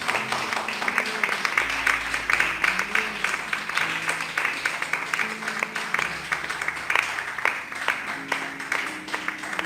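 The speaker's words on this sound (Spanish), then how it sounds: "Dale un aplauso al Señor, por favor" A church congregation applauds the Lord at a sermon's call, with steady, fairly loud clapping from many hands over a low hum and a few sustained tones.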